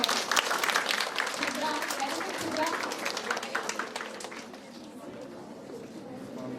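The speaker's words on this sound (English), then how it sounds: "Everybody, please clap your hands for her." Clapping rises from an audience at a pharmacy talk, moderately loud at first, then thinning and fading toward the end, with some chatter mixed in.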